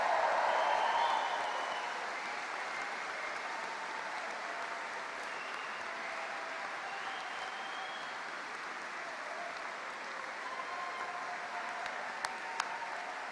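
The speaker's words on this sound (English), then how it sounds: "will you also applaud and cheer them as you honour their success?" A graduation ceremony audience at a School of Clinical & Applied Sciences applauds steadily for the full length, a dense wash of many hands clapping that swells at the start and then settles into an even, sustained level, with no talk over it.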